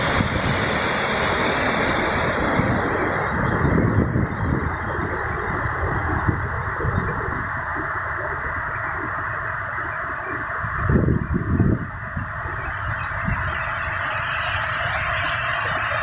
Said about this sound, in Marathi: राजवाडीचा प्रसिद्ध असा धबधबा